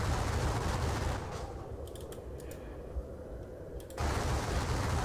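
Napoleonic-era artillery fires in a Battle of Eylau strategy video game, loud rolling bursts at the start and again near the end, with a quieter stretch of scattered crackles between.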